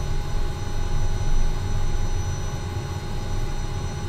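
Steady engine drone of a SimWorks Studios Kodiak 100 aircraft in a flight simulator, settled near low idle, a constant even hum and hiss with no talking.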